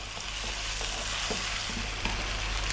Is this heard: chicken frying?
yes